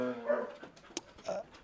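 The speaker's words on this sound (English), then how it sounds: "Here we have some puppies" Puppies at a dog kennel, shepherd pups and a brown Labrador, give a few soft yelps and brief whimpers, fairly close but quiet, with light background noise between the sounds.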